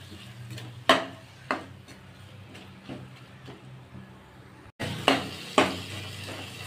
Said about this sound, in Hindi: अब अच्छी तरह से मिक्स कर लेना है।